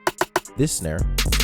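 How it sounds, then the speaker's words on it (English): Three quick layered snare hits followed by a burst of layered, pitched electronic sounds and a heavy, sustained low tone. "So this snare,"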